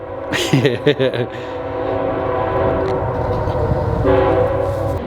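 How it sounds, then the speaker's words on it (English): A train rolls past close by with a loud, steady rumble, and its horn blasts near the start and again toward the end. Someone talks briefly over the noise. "all right, train's gone."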